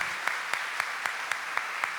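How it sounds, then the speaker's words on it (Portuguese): Faint audience applause at a church service, with sharp claps landing in an even, rapid rhythm over a soft continuous wash of crowd noise. "você quer aplaudir? Pode aplaudir."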